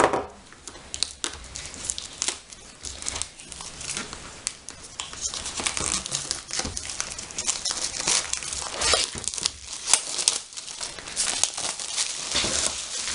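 Foil wrapping on a pack of Disney Frozen 2 scratch cards crinkles and tears close up, busy irregular rustling and crumpling that runs on for several seconds.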